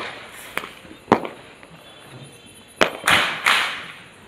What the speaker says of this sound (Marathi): सगळ्या इकडे फुटणं चालू आहे फटाके.